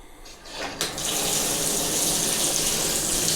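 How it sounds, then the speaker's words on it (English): Hot tap water gushes steadily into a jetted tub after a brief opening sound, a constant close rushing splash with no voices. "So now we're just going to fill it up with water."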